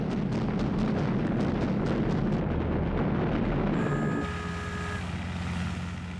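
Explosions from US bombers attacking Japanese aircraft carriers in the Second World War, heard as a dense, continuous roar of blasts and rumbling that fills the first four seconds, then settles into a lower, steadier drone with a faint tone.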